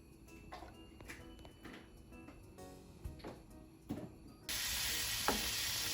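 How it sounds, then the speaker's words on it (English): Food crackles quietly in a pan with clinks and scrapes of stirring, then a loud steady sizzle takes over as ingredients for a minced beef pie hit the hot olive oil. "So this is how you are frying it."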